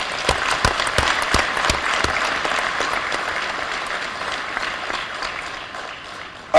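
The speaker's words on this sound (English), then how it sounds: "I take it that that applause is an acclamation and adoption of the declaration." Applause from the audience at an African regional meeting on adopting a declaration, loud and sustained from many hands, tapering slightly toward the end before a sudden louder sound at the finish.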